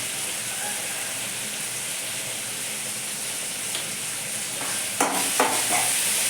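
Steady sizzling of turmeric and asafoetida frying in a hot pan, with a few stirring scrapes near the end; no talking.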